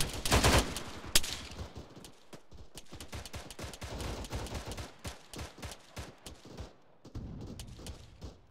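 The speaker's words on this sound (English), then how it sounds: "This is a wild firefight." Dense gunfire in a team firefight around a mosque: rapid overlapping shots and machine-gun bursts crackle close and loud, thinning into scattered reports and brief lulls, then picking up again.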